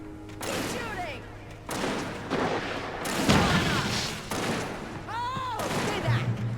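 Gunfire in the Alan Wake video game bursts out in a series of sharp shots and thuds spread across several seconds, mixed with shouting voices and other game sounds.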